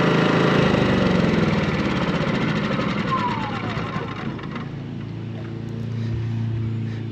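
A Firman dual fuel generator runs steadily before shutdown, a loud continuous engine drone close by that eases slightly toward the end.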